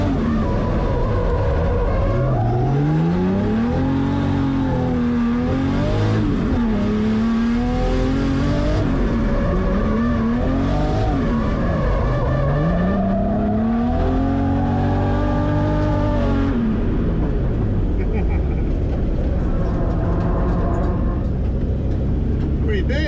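A drift car accelerates and revs hard on a track, the engine note climbing and dropping repeatedly through gear changes and throttle blips, loud and close throughout, with faint voices under it.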